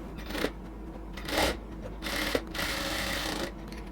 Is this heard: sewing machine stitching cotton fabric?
yes